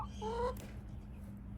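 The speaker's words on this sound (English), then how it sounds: "I don't think I've ever had so many chickens on my lap at one time." Several chickens sitting on a person's lap give a couple of close, drawn-out clucking calls over a steady low hum, followed by a fainter short cluck at the end.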